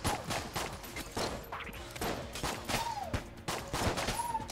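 Tommy gun fire in the game Enter the Gungeon crackles in repeated short bursts, fairly faint and rapid, with whooshing game effects between volleys.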